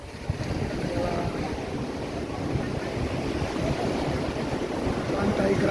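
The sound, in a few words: beach with waves and wind, Singkawang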